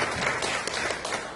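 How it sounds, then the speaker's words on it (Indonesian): A school audience applauds a teacher at an education event, a dense steady wash of many hands clapping together, moderately loud and continuous. "Kita berikan tepuk tangan dulu kepada Bapak Syukur."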